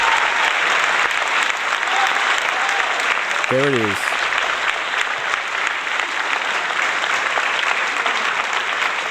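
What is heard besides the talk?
studio audience applause when phone number appears on screen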